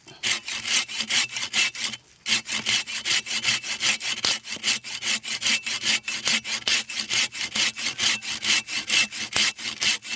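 A curved pruning saw cuts through bamboo in quick, rhythmic back-and-forth strokes, close and steady, with one brief pause early on before the sawing resumes.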